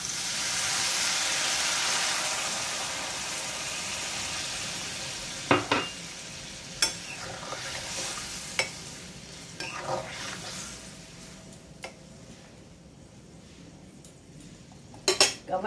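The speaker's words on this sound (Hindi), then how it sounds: "अब थोड़ा समय फ्राई करूंगी" Okra, brinjal and potato fry in a pan with a soft, steady sizzle fading over time, broken by a few sharp clinks and scrapes of a spoon stirring against the metal.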